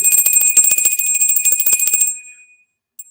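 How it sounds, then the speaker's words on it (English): A bright bell rings in a rapid, continuous trill for about two seconds, then stops and fades, leaving a single faint ting afterward. "We ring the bell"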